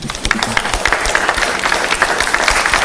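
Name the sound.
audience applause for the candidate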